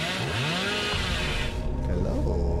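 A chainsaw in the Dead by Daylight video game revs loudly and continuously, its engine pitch rising and falling, close and dominant with some speech mixed in.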